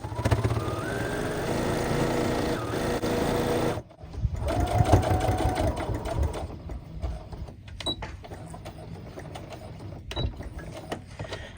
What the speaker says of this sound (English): just going to stitch along until I get 1/4 of an inch from this corner right here